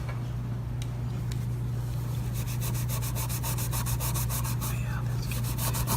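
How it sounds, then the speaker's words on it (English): A metal filter plate is scrubbed with a Scotch-Brite pad in quick, rhythmic rubbing strokes that grow more regular and pronounced partway through, over a steady background hum. "Once you hit it with some Scotch-Brite"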